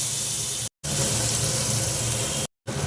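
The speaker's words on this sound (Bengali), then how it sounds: "আর যে কটা আছে একইভাবে আমি ভেজে নেব, অল্প করে ভেজে" Koi fish frying in hot oil, a loud continuous sizzle and hiss up close, cut by two brief silent gaps.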